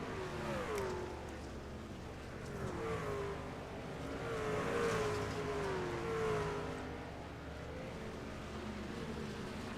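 Race truck engine held hard on the throttle on the Eldora dirt oval in iRacing, a steady droning roar that rises and swells as it runs on alone, with no talk over it.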